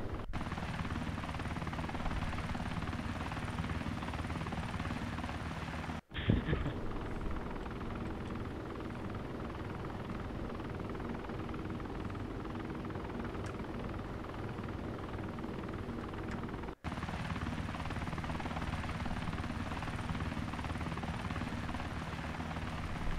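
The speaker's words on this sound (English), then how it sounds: "this recording is me officially landing the Osprey on the carrier" Osprey tiltrotor landing on an aircraft carrier in a video game, a steady, loud rotor drone that runs throughout with two abrupt brief cutouts and no talking.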